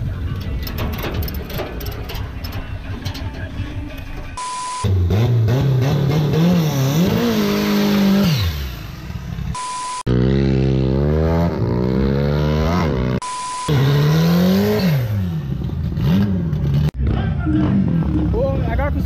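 Chevrolet Opala and other drag racing cars at a season-final drag race, engines revving hard in repeated loud rising and falling sweeps, with someone talking over the roar.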